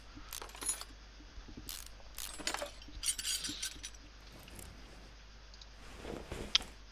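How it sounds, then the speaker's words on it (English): An oil pan comes off a Dodge Charger in the Car Mechanic Simulator 2018 game: scattered metallic clinks and small clattering clicks, light and fairly quiet, in irregular bursts with no talking. "so we take out the oil pan, or off the oil pan as I should say"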